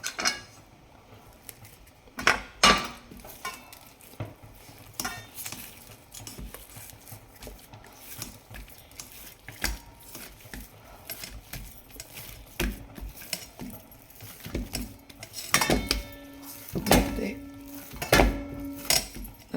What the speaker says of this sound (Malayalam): അപ്പോൾ ആദ്യം നമുക്കിതെല്ലാം കൂടെ മിക്സ് ചെയ്യാം. നമ്മുടെ ഡോവിനകത്തോട്ട് എല്ലാം കൂടെ മിക്സ് ചെയ്യാം.